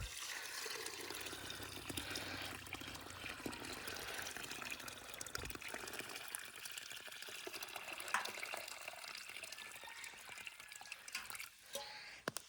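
Water is poured around the base of a grafted mango tree in a cleared village orchard, a faint trickling and splashing flow that continues for several seconds and tapers off near the end.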